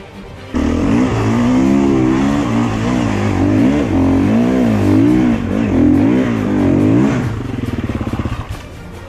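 Car engine revving hard during clutch work, rising and falling in pitch with surging throttle blips, loud and close, ending in a rapid rattling burble.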